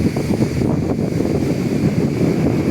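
Strong gusting wind buffets the microphone on a boat in rough seas with five-foot waves, a steady loud roar of wind and surf with no voices.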